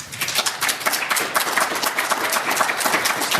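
Audience applause at a pub politics talk, dense and steady clapping that fills the whole stretch at close, even loudness with no voices over it.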